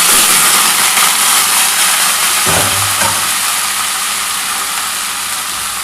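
Vinegar-marinated chicken pieces fry in hot oil over a low gas flame, giving a loud, continuous sizzling hiss with a brief thump midway and no voices.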